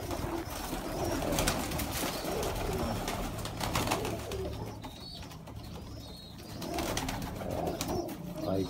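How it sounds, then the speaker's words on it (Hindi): Sialkoti pigeons coo in soft repeated phrases close by, with overlapping calls and light rustling over a steady background. "साबिर भाई, पहले नंबर पे हमें किस कबूतर का शौक करवाएंगे आप जी?"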